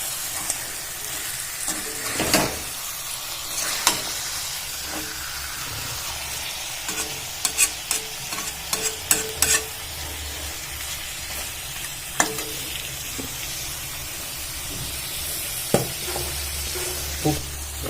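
Chicken pieces with ginger are stir-fried in a pan, a steady close sizzle running throughout with repeated clacks and scrapes of the spatula, clustered around the middle, and no speech.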